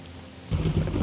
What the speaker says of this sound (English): This is a high quality rain,